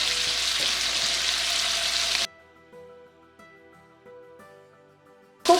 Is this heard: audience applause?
no